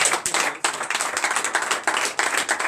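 A church congregation claps in quick, uneven bursts, close and lively, with distinct individual claps and short dips between waves of acclaim.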